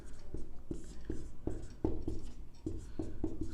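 Chalk or marker strokes on a board in a biology lesson on the cell, a quick series of distinct scratchy taps in an uneven rhythm, close and fairly quiet with no talking.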